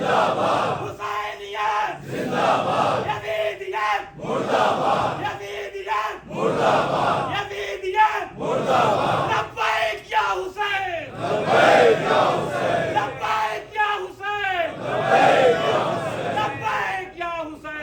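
A large crowd at a majlis chants religious slogans in repeated rhythmic bursts, a leader's call answered by loud collective shouts roughly every two seconds.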